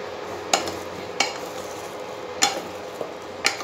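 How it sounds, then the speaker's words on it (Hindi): Deep-fried balushahi sweets stirred into sugar syrup in a pan, with a handful of sharp spoon-on-metal clinks and scrapes at irregular intervals over a soft background hiss, close and fairly loud. "और इनको अब अच्छे से मिक्स कर लेंगे इस चाशनी में।"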